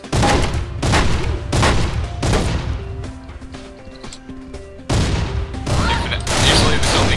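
Loud bursts of gunfire in Garry's Mod come in repeated rapid volleys, with a short quieter stretch of game noise in the middle before the shooting resumes, and a voice is briefly heard.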